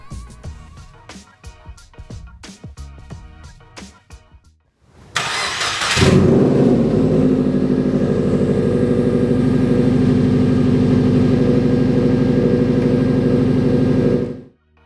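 A Subaru car engine, 2008-2014 model with a front mount intercooler, cranks and catches at about five seconds, then revs up and holds a loud, steady roar, preceded by scattered clicks and knocks.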